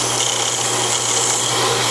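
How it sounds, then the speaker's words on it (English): Bench grinder sharpening a steel lawn mower blade gives a steady, loud, high abrasive hiss over a constant motor hum, unbroken for the whole stretch. "You don't get that with this grinder here."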